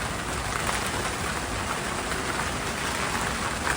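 A passing rainstorm squall: dense, steady rain pouring down and drumming on surfaces around a boat cabin, loud and continuous for a few seconds with no voices.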